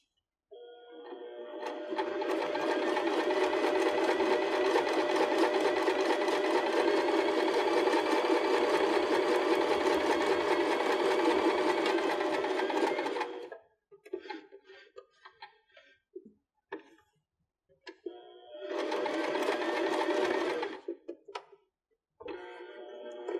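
A sewing machine hums steadily for a long, close, loud run while stitching cork fabric petals onto a pillow, then stops with a few clicks before a second shorter burst of stitching.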